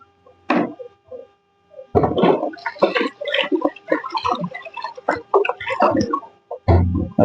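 Water is poured over a glass of rice for washing, giving intermittent close splashing bursts with short pauses between them and a final strong gush.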